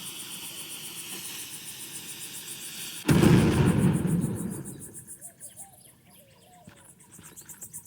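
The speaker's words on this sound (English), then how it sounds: "And an explosion will certainly liven up your article." A sudden explosion in the Rosewater adventure game bursts out as a loud, broad boom after a quiet stretch, then rumbles and fades over a couple of seconds while faint chirping continues.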